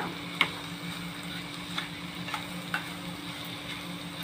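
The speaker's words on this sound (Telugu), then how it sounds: "కొంచెం మూత లేకుండా 2 నిమిషాలు వేయించి తీసేస్తాయి కూరని" Curry frying in an open pan without a lid, a constant sizzle broken by a few sharp ticks and taps of a stirring utensil, fairly close, with no one talking.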